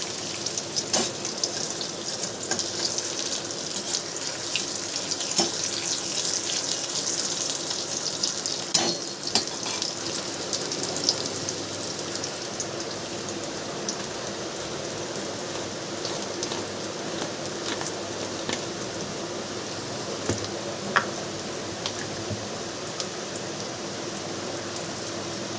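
Onion browning in a frying pan, producing a dense continuous crackling sizzle like light rain, with occasional sharper pops and stirring knocks, sustained and close throughout.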